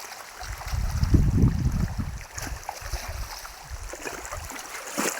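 Floodwater rushes through a swollen stream that has cut off the road and runs knee-deep where people must wade across. It makes a steady, close, rumbling wash that swells loudest early on and then settles into a continuous churn.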